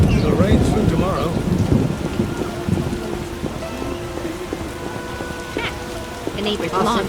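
Steady rain pours through the game world of The Witcher, with rumbles of thunder rolling underneath and villagers chattering in the background; a continuous, enveloping downpour.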